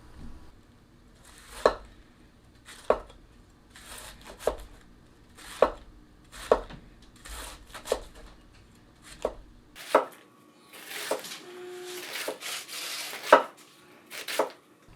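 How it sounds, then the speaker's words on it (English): A sharp kitchen knife slices cabbage thinly on a cutting board, giving about eight evenly spaced, crisp chops that speed up into a busier flurry of cuts near the end, close and clear with no talking. "look at these really thin slices here"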